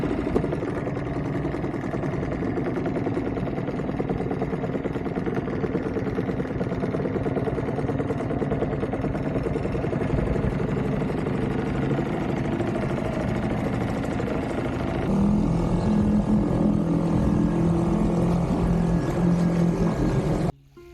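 A small tender's outboard engine, started on choke, runs steadily at idle close by, a continuous loud mid-pitched drone with a slight shift in tone near the end, no voices.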